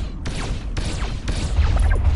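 Weapons fire in Starpoint Gemini 2, a space combat game: three loud, sharp bursts about half a second apart, each trailing off into a dense rumbling roar that builds steadily, with no talk.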